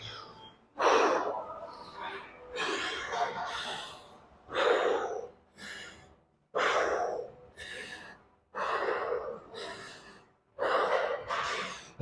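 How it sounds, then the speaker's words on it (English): Heavy, forceful breathing after a chest and shoulders workout set, with about seven loud gasping breaths and exhales in an uneven rhythm separated by short pauses, close to the listener. "All right, a few breaths."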